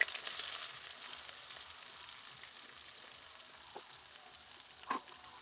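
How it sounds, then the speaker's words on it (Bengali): Chopped onion tipped into hot oil already holding a dried red chilli, bay leaf, whole garam masala and cumin seeds for a country chicken curry, giving a steady close sizzle with a couple of brief crackles near the end. "এখন দিয়ে দিচ্ছি পেঁয়াজ কুচি"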